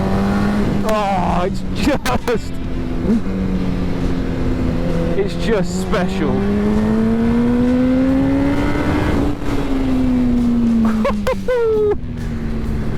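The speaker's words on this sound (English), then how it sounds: "The screaming engine, just listen." A Yamaha R1 inline-four sportbike engine revs hard, its pitch rising and falling through sustained loud screaming sweeps over about ten seconds, with a person talking over it.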